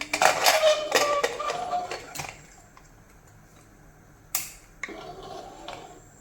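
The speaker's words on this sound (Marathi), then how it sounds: "कुकरला झाकण लावून घ्यायचं" A pressure cooker lid is fitted onto a pot of goat head curry: a burst of metallic clatter, then a quieter pause broken by two sharp clicks as it locks.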